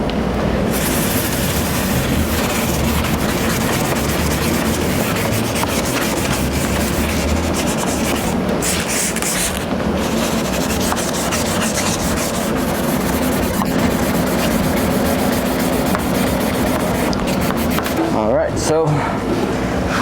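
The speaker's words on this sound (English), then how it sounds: "Just got done sanding with 800." Steady wet-sanding rub of 800 grit sandpaper across a heavily faded plastic car headlight, a continuous close scraping texture with a few brief breaks, no talk over it.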